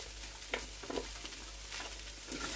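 Diced potato frying in a hot pan for a sweetcorn and gammon chowder: a faint, steady sizzle with a few soft stirring knocks, no talking.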